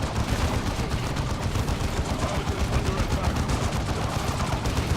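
Rapid gunfire from a battle in the strategy video game Dawn of War II rattles continuously, dense bursts of shots layered over battle noise.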